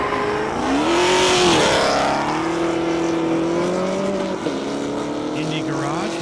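A Dodge Hellcat makes a high-speed pass at a half-mile airstrip racing event, its engine roaring loudly and rising in pitch through several gear shifts while a commentator talks over it.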